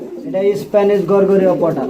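A fancy pigeon coos in loud, close, rolling bursts, its voice repeating several times over a short span with no talk.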